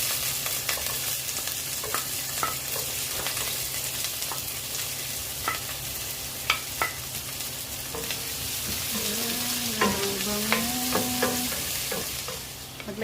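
Onion frying in a pot for soup after ginger, a steady close sizzle with scattered clicks of stirring utensils, no talking.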